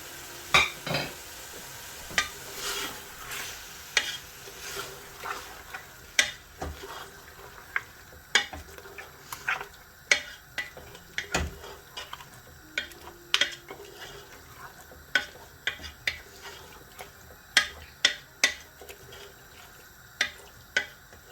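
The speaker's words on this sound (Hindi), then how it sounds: "पाँच मिनट तक इसकी बुनाई करेंगे हम गोश्त की। गैस की फ्लेम मैंने हाई ही रखी हुई है।" Mutton, about 300 grams, sautés in a pan over a high gas flame, with a continuous sizzle broken by frequent sharp scrapes and clacks of a spoon being stirred, close and fairly loud.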